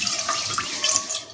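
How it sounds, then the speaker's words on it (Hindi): Water running into a pan, part of making a jaggery syrup, with a steady splashing rush throughout the short stretch, close and fairly loud, with no talking. "पैन में हमने पानी ले लेना है"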